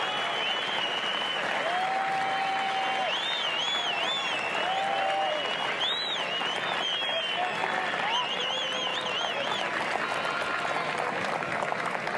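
A golf gallery at the 2014 Lorena Ochoa Invitational final round applauds and cheers steadily, a dense wash of clapping from a large crowd with scattered whistles riding over it throughout.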